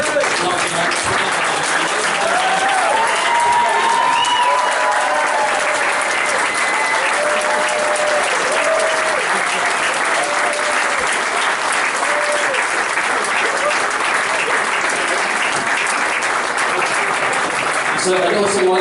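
A convention audience applauds steadily and loudly for the whole stretch, a dense even wash of many hands clapping with murmurs of crowd voices underneath.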